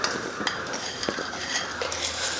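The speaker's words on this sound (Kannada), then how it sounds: "ಈಗ ನಾನು ಬೇಳೆ ಜೊತೆ ಬೆಲ್ಲ ಕಲಸಿ 2 ನಿಮಿಷ ಬೇಯಿಸ್ಕೊತೀನಿ." Chana dal and jaggery mixed in a metal pot with a spoon, bright scraping and intermittent clanks of utensil against the pot, close and fairly loud, no voices.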